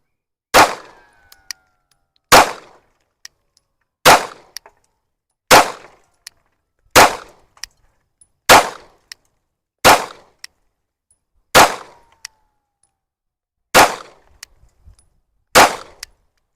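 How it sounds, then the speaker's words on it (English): Ten loud, sharp pistol shots from a Glock 19 Gen 5 ring out one at a time, evenly spaced about every one and a half seconds, each with a short echoing tail and no talking. "I'm gonna go ahead and shoot the Glock. This is a Glock 19 Gen 5."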